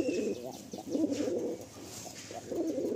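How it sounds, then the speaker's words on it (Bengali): Giribaj high-flyer pigeons coo close by in repeated low, throaty rolling phrases, each lasting around half a second, with faint chirps in the background. "এই যে এই পায়রাটা দেখুন, পায়রা দেখুন"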